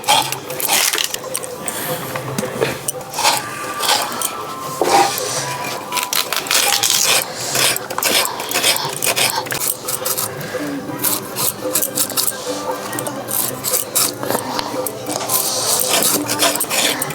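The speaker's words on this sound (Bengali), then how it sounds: "আর এখন কচুটা কেটে নেবো" Raw taro (kochu) is cut into small pieces with continuous close, rasping, scraping knife strokes in a busy, irregular rhythm.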